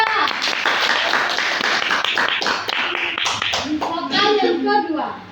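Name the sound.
classroom applause for a student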